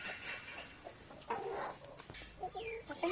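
Hens cluck intermittently, a few near calls rising over quiet farmyard background, with scattered soft knocks and rustles.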